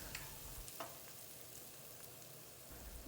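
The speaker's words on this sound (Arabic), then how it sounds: "وفي نفس الطاسه هنزل فصين من الثوم، وبعد كده هنزل عليه بصل متقطع جوليان، بصلايه بيضه، وهقلب البصل كويس جدا" Garlic cloves and julienned white onion fry in a pan, a steady close sizzle broken by a few soft scrapes and clinks as they are stirred.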